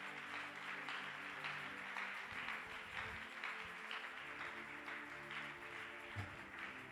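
A church congregation claps for the Lord in a steady, dense wash of applause that lasts throughout, with faint music underneath.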